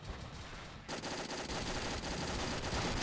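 A PIAT anti-tank weapon fires in the World War II dinosaur shooter Dino D-Day, a sudden loud blast after a moment of quieter game noise, followed by a dense rumbling wash of battle sound.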